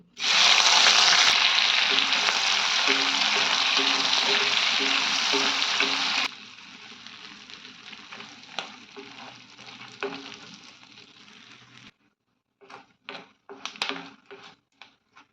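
Soaked crabs fry in a hot pan for a Kodagu-style crab stew, a loud dense sizzle for about six seconds that drops to a quieter crackle, then thins into scattered pops and spits near the end.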